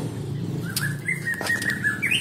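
A white-rumped shama (murai batu) flaps its wings in a quick, close burst of fluttering, with faint chirps alongside, over a low steady background.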